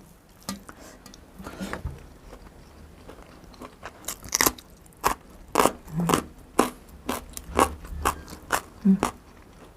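Someone chewing rice with a sour dried mango chili paste up close, a steady rhythm of wet crunchy bites that quickens toward the end, with no talking.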